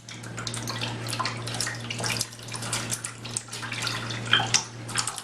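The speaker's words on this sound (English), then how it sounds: "I'll fill the cans up with water." Tap water runs steadily into empty cans of fruit juice concentrate for homemade wine, a continuous splashing gush with a low hum underneath, close and even, with no talking.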